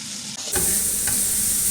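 Spring roll filling stir-frying in a hot pan as green chili, onion and fresh coriander are added: a loud hiss and sizzle bursts in suddenly and then continues steadily, with faint stirring scrapes.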